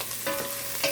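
Onions dropped into a hot pan set up a steady close sizzle with a brief hiss as they land, brief and without voices.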